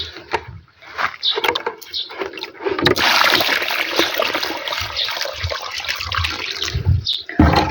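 Water is poured into a planting hole filled with fertile garden soil for a spirea shrub. A steady rushing splash runs for several seconds, close and fairly loud, after a few lighter trickles.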